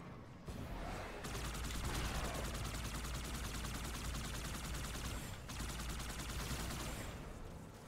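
Rapid, continuous gunfire from the Halo 2 Anniversary video game rattles on for several seconds with brief dips, dense automatic bursts dominating the mix, with little talking.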